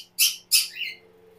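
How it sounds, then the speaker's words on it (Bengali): A white cockatiel in an aviary setup gives two sharp, loud chirps close by, then a softer third call, with no voices. "এই পাশে কোকাটেলের সেটআপে আছে সাদা কোকাটেল।"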